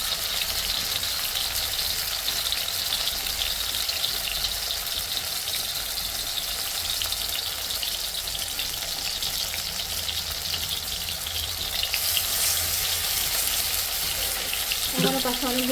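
Leaf fritters (bora) fry in hot oil with a steady, loud, close sizzle that runs throughout, and a brief clatter comes near the end.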